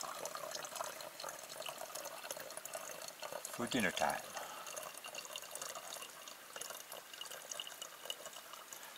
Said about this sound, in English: That's really all there is to filtering water. The Sawyer Squeeze and a little bit of creek water.